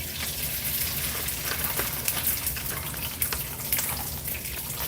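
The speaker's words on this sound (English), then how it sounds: "And you guys hear that sizzle?" Steady, crackling sizzle of fried rice stir-frying in a hot pan, with brief sharper pops and spatters over a continuous hiss.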